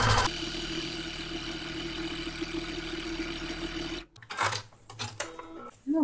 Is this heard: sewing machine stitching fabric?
yes